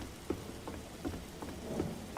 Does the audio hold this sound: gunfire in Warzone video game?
no